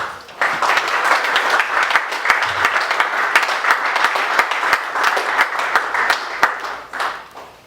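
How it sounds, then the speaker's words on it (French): A hall audience applauds a dental surgery professor being honored, giving loud, sustained clapping with sharp individual claps standing out over a dense, even roar. "Si nous pouvons l'applaudir."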